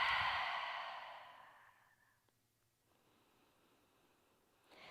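A long, deep exhale during a beginner yoga session, starting loud and breathy and fading gradually over about two seconds into near silence, heard close and alone before a faint breath at the end.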